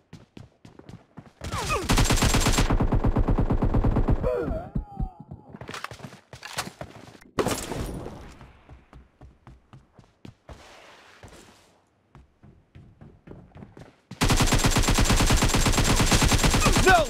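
Rapid automatic gunfire in the battle-royale video game PUBG comes in loud sustained bursts at the start and end, with scattered single shots, thuds and footsteps between them, and brief spoken voices underneath.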